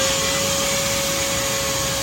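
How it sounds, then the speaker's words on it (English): Shop vac running during the first cleaning of a three-barrel koi pond filter system, a loud, steady, unbroken whine and rush of air throughout. "Then I will turn on the shop vac."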